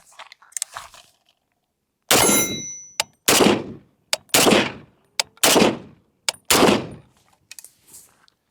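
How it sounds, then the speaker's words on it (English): An FAL rifle firing several single rounds outdoors, loud sharp cracks spaced about a second apart, each trailing off in a short echo, with faint clicks before the first shot. "let's fire a couple rounds."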